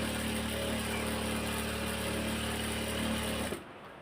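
Sewing machine running a steady, close seam along both sides of fabric, humming evenly for about three and a half seconds before stopping abruptly into near quiet.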